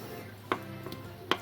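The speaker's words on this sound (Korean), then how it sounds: "대파 2분의 1개를 쫑쫑" Two sharp knife chops on a board, about a second apart, as half a green onion is cut finely, close and fairly quiet against a low steady background hum.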